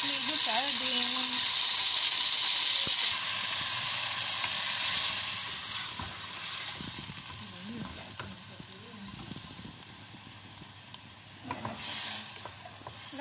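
Canned sardines tipped into a pan of frying garlic, onion and vegetables, a strong steady sizzle that gradually softens, with stirring scrapes and a voice talking over it.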